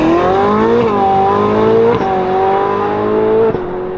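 A Ferrari 458 on its shakedown run, its engine holding a loud, steady high-pitched wail with brief dips between gear changes, close and dominant throughout with no voices.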